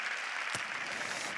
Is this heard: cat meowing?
no